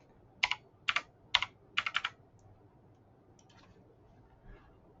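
Fingers tap out a password on a computer keyboard in short bursts of crisp key clicks, a few quick groups followed by softer scattered taps in a quiet room.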